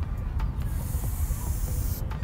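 A spray paint can sprays while painting a graffiti mural, a long, steady hiss of moderate loudness that cuts off near the end, with a few short clicks under it.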